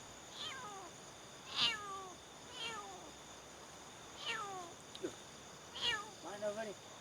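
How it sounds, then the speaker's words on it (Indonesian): A cat meows about five times over seven seconds, each call a drawn-out, falling mew at moderate distance, the last few coming in quicker succession against a steady background hum. "ada suara kucing"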